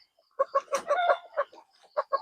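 Hungry chickens cluck close by in a string of sharp, separate calls, several overlapping in a brief flurry, against a quiet background before feeding.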